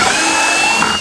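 A brief, loud whine of a power drill running steadily at high speed, drilling holes in a 5-gallon plastic bucket, cutting off abruptly at the end.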